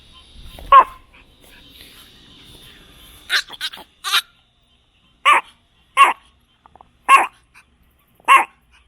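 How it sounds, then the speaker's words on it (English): A dog at a campsite lets out a string of sharp, separate barks with short gaps between them, close and loud, with a faint high whine running under the first few seconds. "What a watchdog, huh?"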